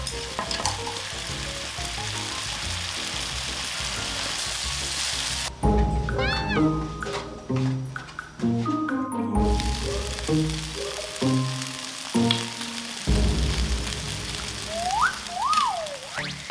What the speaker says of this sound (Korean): 이제 버터를 녹여주고